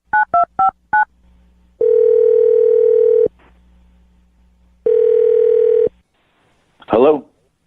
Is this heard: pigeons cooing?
no